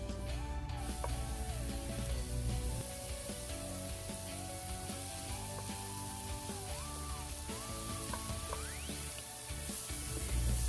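Mushrooms and onions sauté in a hot pan with a steady, close sizzle and occasional stirring scrapes, with a bright music-like tone line running on top throughout.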